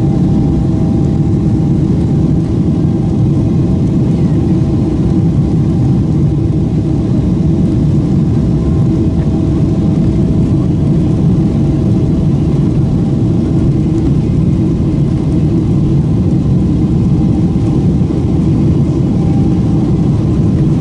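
Airliner engines roar at high thrust as the plane speeds down the runway for takeoff on a flight from Yuzhno-Sakhalinsk, a loud steady low rumble heard from inside the cabin for the whole stretch.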